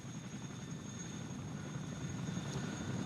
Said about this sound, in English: that helicopter behind you is ready to go